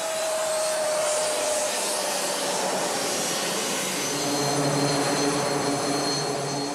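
Loud, continuous jet fighter engine roar on the deck of the aircraft carrier Charles de Gaulle at sea, a steady high-pitched whine over a broad rumbling rush that swells slightly toward the end.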